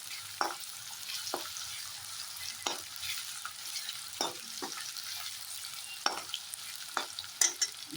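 Garlic fries in a pan on a hot stove, a quiet, fairly close sizzle with sharp crackles and pops recurring every second or so.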